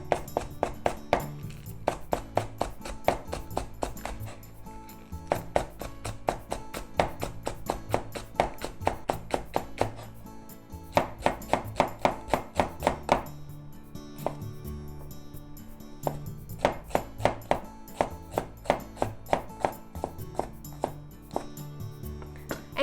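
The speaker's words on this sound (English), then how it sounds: "Japanese leek into very thin diagonal slices" A knife cuts a Japanese leek into very thin diagonal slices on a cutting board, making rapid, even, close taps against the board in long runs with brief pauses between them.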